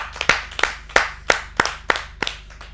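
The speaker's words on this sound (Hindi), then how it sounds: "आप सबकी जोरदार तालियों से" Applause from the audience at a Hindi poetry gathering, sounding as distinct, rhythmic claps in a steady beat of about three per second, close and clear.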